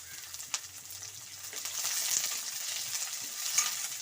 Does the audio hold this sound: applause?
no